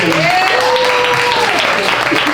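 An audience at a panel talk applauds, a loud, even spread of clapping throughout, while a voice cheers or speaks with rising and falling pitch over the top.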